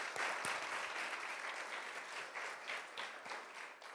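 Audience applause at a charity luncheon, a steady wash of clapping from a room of guests that holds evenly for a few seconds with no voices over it.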